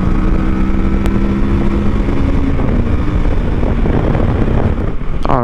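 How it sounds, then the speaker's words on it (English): Loud, steady engine roar of a Kawasaki Versys 650 with a 649cc parallel twin, heard while riding, with heavy wind buffeting the microphone throughout. "this bike has a 649cc parallel twin engine"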